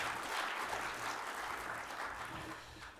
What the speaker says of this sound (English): Give Simon and the whole Lego team a big round of applause.